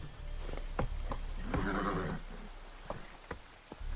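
A horse in The Witcher 3: Wild Hunt gives a clear whinny mid-clip, surrounded by scattered hoof clops, moderately close over a steady game background with no talk.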